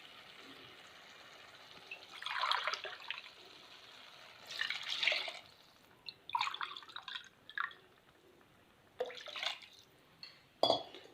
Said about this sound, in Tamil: இப்போ இதில் வந்து 1/2 கிளாஸ் வந்து தண்ணி ஊற்றிக்கலாம் நம்ம.